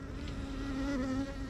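Honey bees buzz around a hive on a fine day, a faint, steady insect drone with one wing hum sliding in pitch close by.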